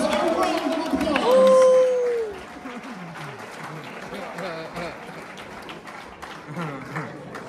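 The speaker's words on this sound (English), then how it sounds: "give yourselves a round of applause" A crowd of about 200 at a wrestling tournament finals claps and cheers, with a loud whistle-like shout early on, then fades into scattered applause and crowd chatter with voices throughout.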